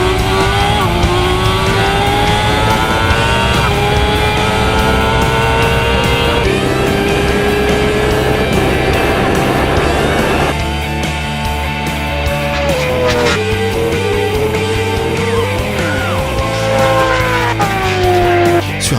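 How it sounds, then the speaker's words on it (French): A Kawasaki H2R and a BMW S1000RR superbike race a standing-start 1000-metre run. Their high-revving engines whine steadily upward, broken by gear shifts, loud and continuous with no talk. "Cluman choisit la BMW S1000RR, l'hypersport la plus puissante du marché"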